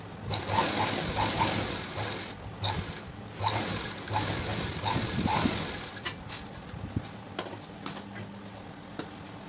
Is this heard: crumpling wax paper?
no